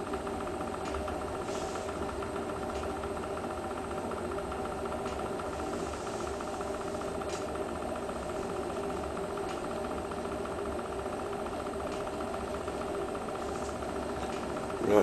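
An oil burner fuel pump runs steadily in a home heating wood stove, a continuous close mechanical hum and whir with an even drone and no breaks.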